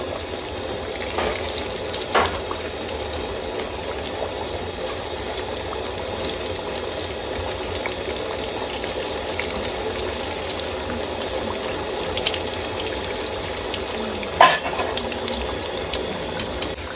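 Samosas deep-frying in hot oil a few at a time, a steady dense sizzle and bubbling that holds throughout at even loudness, with a couple of brief sharper crackles and no talking.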